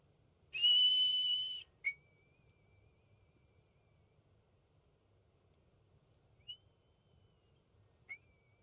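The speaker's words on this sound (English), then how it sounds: "You hear a whistle." A faint, drawn-out whistle opens the sequence, followed by a few shorter, quieter whistle notes spread across the rest of the span over a low background hum.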